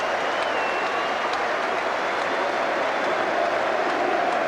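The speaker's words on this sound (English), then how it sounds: "Applause from the manager" Steady applause from a large crowd at a football match, a continuous dense roar of clapping that holds at the same level throughout.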